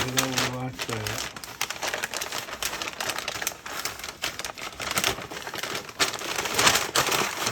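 Thick brisket being wrapped and folded in paper, with continuous crinkling and crumpling through the whole stretch, fairly close and steady, and a brief low tone near the start.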